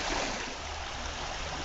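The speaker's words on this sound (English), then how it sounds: "Water's flashing by." River water on the Tuscarora River rushes past rocks near a rapid, a steady, dense broadband roar filling the whole stretch with no voices.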